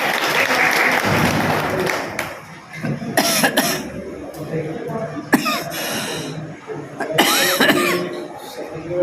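Applause for a local MLA at a press club ceremony, with clapping loudest at the start, then breaking into scattered bursts mixed with coughing, throat clearing and people talking nearby.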